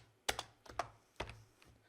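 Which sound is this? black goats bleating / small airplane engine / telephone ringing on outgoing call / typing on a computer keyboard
typing on a computer keyboard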